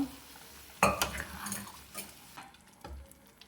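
Cooked tomato and onion are mixed into paalak dal kichidi, with a few close, distinct scrapes and clinks of a spoon against the pot over a faint background sizzle.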